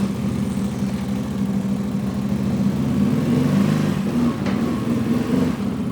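A CFMOTO Gen 3 CForce 1000 ATV on 32-inch tires, fitted with a Trail Tamer exhaust and RNG clutch kit, rumbles steadily at close range with a deep throbbing idle and slight rises in revs.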